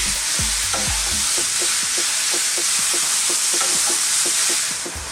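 Minced beef for keema curry sizzles steadily in a hot pan while a spoon scrapes and stirs it in a quick repeating rhythm, loud and close with a constant frying hiss.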